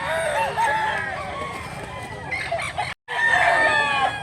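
Black Leg gamecock stag, 1.9 in weight, crowing at close range in repeated loud calls with a brief gap near the end, other fowl clucking and crowing around it.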